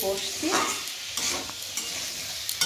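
Spice masala frying in oil for a paneer curry, a short burst of close, crackling sizzle with spatula scrapes and stirring clicks.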